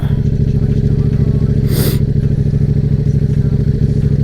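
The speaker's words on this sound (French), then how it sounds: "Bon là j'ai mon bon ralenti" A KTM RC8 R sport motorcycle engine idles close by, a loud, steady rapid pulse that holds evenly throughout with a brief hiss of noise partway through.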